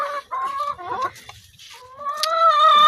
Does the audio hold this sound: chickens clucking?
yes